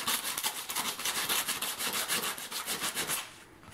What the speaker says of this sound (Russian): Теперь на одном из наших дисков нужно придать шероховатость. Я взял наждачку.